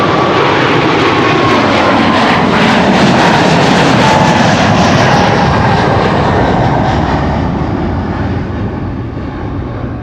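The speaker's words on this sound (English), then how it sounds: "This was definitely one of the louder departures we've had in the show thus far today." Loud, close roar of a jet airliner departing Amsterdam Schiphol, a powerful sustained engine rumble that slowly fades as the aircraft climbs away, with no talking.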